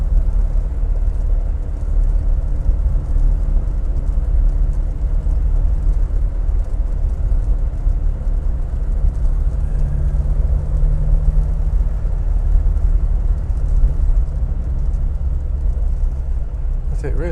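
Triumph Herald 13/60 on the move through autumn countryside, heard from inside the cabin as a steady low engine and road drone with faint rattles and squeaks riding on top.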